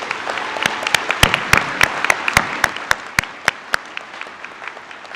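Steady audience applause at a college commencement ceremony, with many distinct hand claps over a dense wash of clapping that gradually thins and fades.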